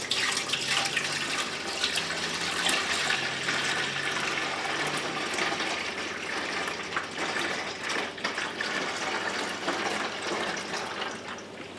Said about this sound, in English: we need to put the milk in the pot